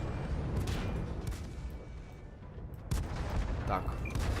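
Heavy booming tank cannon shots in World of Tanks, a loud blast near the start and another sharp one near three seconds, over a constant rumbling battle din.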